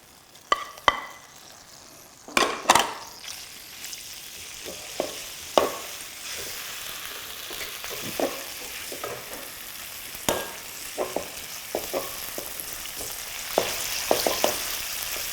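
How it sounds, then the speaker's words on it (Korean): Meat stir-fried in about three tablespoons of cooking oil in a wok, a steady sizzle punctuated by repeated sharp clanks and scrapes of a utensil against the pan, close and fairly loud. "이렇게 볶으면 한 5초에서 10초 정도 볶으면 고기가 이제 하얀 색깔이 보이기 시작해요"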